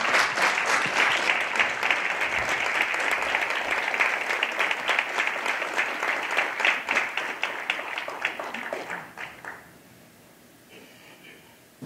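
An audience at a Grand Rapids evening lecture applauds to welcome speaker Angel Adams Parham. The dense, loud clapping holds steady for about nine seconds, then thins out and fades to quiet.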